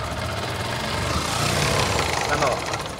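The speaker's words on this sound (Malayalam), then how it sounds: "എൻജിൻ്റെ ഭാഗത്തു നിന്ന് ഭയങ്കര സൗണ്ടാണ്." A motorbike engine with a failing drive axle shaft runs close by, giving a loud, rough, knocking drone with a rattling vibration throughout.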